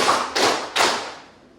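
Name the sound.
students clapping in a classroom clap game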